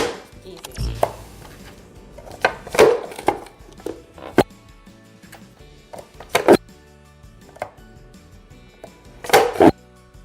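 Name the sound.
chopping carrots for curry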